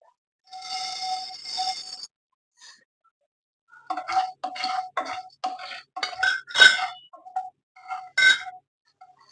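Coriander seeds dropped into a hot, dry pan over low heat for roasting sound as light clinking and rattling, a brief patter followed by a run of sharp little ticks and taps against the metal.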